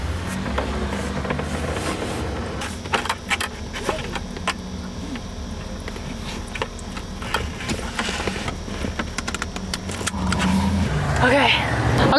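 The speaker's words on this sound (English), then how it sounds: "There's a ton of cars going behind me" Steady traffic rumble from cars passing on a road close by, a continuous wash of engine and tyre noise running the whole time with small clicks and knocks up front, and rising hiss near the end.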